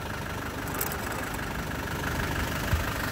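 A Warn 5687 electric winch pulls a vehicle, drawing around 300 amps, producing a steady mechanical motor hum and whine with a faint knock near the end, with no talking.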